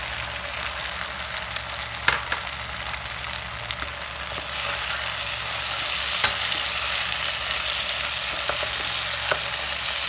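Vegetables such as carrot and peas sizzle and fry in a hot pan for chicken macaroni, a steady loud crackle with occasional stirring clicks and scrapes, with no voices.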